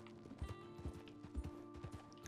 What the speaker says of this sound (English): my horse just won't stop running now